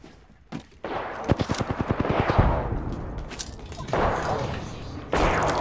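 Gunfire in the battle royale game Apex Legends: a fast burst of automatic shots with crisp, evenly spaced reports, followed by more scattered shots and impacts.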